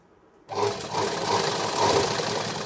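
A sewing machine starts abruptly and stitches a seam on a four-tuck blouse, running steadily and close for the rest of the moment with a slightly pulsing motor hum.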